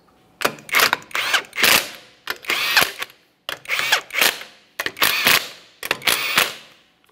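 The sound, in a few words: torque wrench tightening car wheel lug nuts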